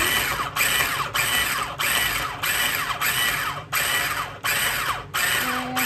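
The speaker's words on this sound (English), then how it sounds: "I just have it in my little processor." A small kitchen food processor chops peppers for pepper jelly in repeated pulses, roughly eight loud whirring bursts separated by brief pauses, close and steady with no talking.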